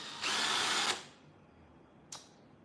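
A power drill whirs in a short burst of under a second, then stops; a brief second buzz follows moments later in a quiet room.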